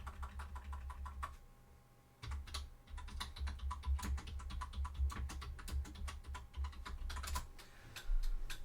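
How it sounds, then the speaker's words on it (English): Typing on a computer keyboard, with rapid uneven clicks and key taps over a low background hum, a short lull, then steady typing again. "Oh, I can't type today."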